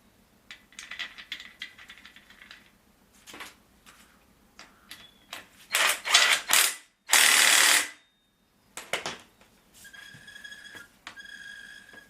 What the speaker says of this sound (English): now we can unscrew the pin and put a normal bolt in here